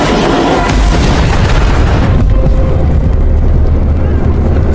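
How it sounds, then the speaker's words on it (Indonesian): A spaceship plunges and explodes in a Halo game cutscene, a loud deep boom with a rumbling blast that roars, then settles into a low, lingering rumble. "kapal itu pun terjun bebas lalu kemudian meledak"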